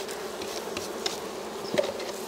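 Honeybees buzz around an open hive during an October colony check, a soft continuous hum with faint individual bees droning close by.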